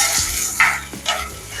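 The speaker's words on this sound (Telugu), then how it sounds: "ఇప్పుడు దీంట్లో ఒక 4 టమాటాలు ఇట్లా పెద్దగా కట్ చేసి వేసి ఫ్రై చేసుకోవాలి." Large-cut tomatoes fry in oil in a pan, a loud close hiss broken by a couple of stirring scrapes and bursts of sizzle.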